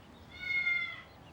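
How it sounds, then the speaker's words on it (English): A single drawn-out cat meow, heard indoors with no other sounds, rising and then fading over about a second. "Mom really does have a cat."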